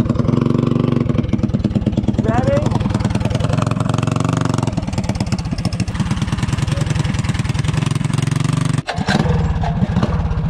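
A small gas mini bike engine runs loud and close for the whole stretch, with a rapid, buzzing put-put. The pitch rises and wavers as it revs, then dips briefly near the end.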